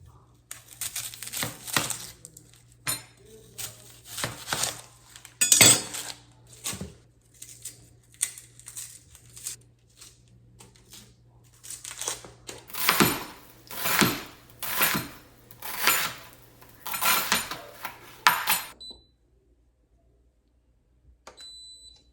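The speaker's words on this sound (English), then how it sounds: "I am going to chop these up and saute them with just a little bit of butter." Knife chopping homegrown garden onions on a cutting board in a home kitchen, a series of crisp, irregular chops that come in bursts, then tighter, rapid strokes before stopping, with a steady low hum in the background.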